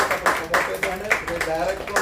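Audience at an MCCL Nilgiris Region office-bearer election claps for the newly elected president, a brisk, steady run of claps under a talking voice.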